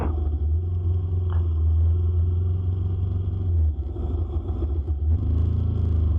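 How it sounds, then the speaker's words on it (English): Motorcycle riding along a road, a steady low engine rumble and drone that persists throughout at close range, dipping briefly midway and again near the end, with no talking. "We're just riding our motorcycles, trying to get from point A to point B"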